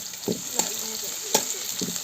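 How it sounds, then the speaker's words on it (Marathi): Ginger, garlic and green chilies fry in oil in a pan on a wood-fired chulha, a soft steady sizzle broken by a few sharp pops and spatula taps. "आलं लसूण तो पण फ्राय करून घ्यायचं हो लालसर भाजून घ्यायचं"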